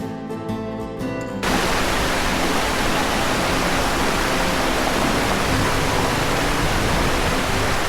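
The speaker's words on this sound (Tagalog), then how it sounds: "lakas ng agos dyan" After a brief quieter moment, the strong current of the Lawasan River in Norzagaray rushes in as a loud, close, continuous roar of flowing water with no talk.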